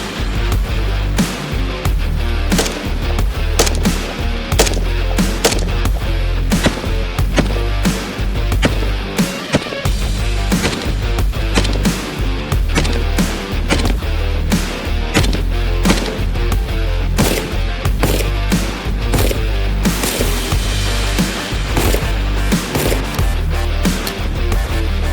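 A rebuilt AK rifle fires at range targets in a long run of sharp, loud reports, shots spaced closely and evenly one after another with hardly any pause.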